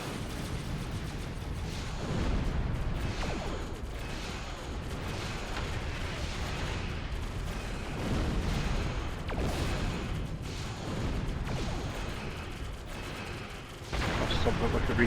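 Dense, continuous battle noise in Mount & Blade with repeated booming cannon blasts and gunfire rumbling throughout, loud and unrelenting.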